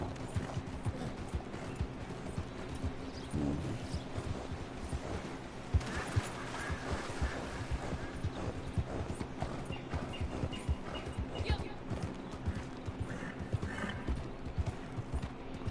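Horse hooves clip-clop steadily at close range, with a horse whinnying partway through, over a low constant background hum, in the video game Red Dead.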